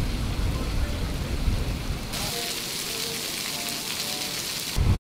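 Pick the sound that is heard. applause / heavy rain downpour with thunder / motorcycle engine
heavy rain downpour with thunder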